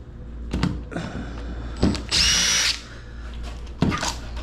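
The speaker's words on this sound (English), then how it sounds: "So first I'm going to unscrew the old stuff." A power drill unscrews old screws from a front door lockset, giving short whirring bursts with one longer high-pitched spin, separated by clicks and handling noises up close.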